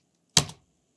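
A single quick keystroke on a computer keyboard, a short crisp click heard alone against near silence while entering an array copy count in SketchUp.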